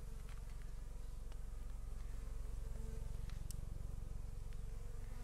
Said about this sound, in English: If you have bees swarming around you like I do